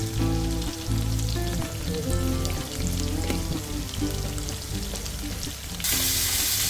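Potatoes frying in butter with salt, making a loud, continuous, dense crackling sizzle up close that swells briefly near the end, with no one speaking.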